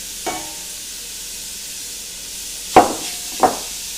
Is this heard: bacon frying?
yes